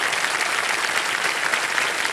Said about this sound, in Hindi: एक बार फिर तालियों के साथ आपका स्वागत है